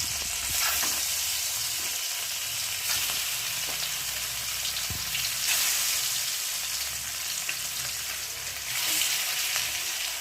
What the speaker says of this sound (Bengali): আসো একে একে মাছগুলো ভেজে নেবো